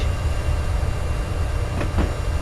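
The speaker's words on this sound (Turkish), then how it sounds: "Kartal Pendik hattında devam ediyor trenimiz." Simulated train running on the Kartal–Pendik rail line in Train Simulator, a steady low rumble of rolling wheels and motor with two faint squeaks or clicks near the end, no talking.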